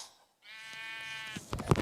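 Sheep bleat from Minecraft: one drawn-out, wavering game bleat holds clear for about a second, then gives way to louder thumping hits and movement sounds at the end.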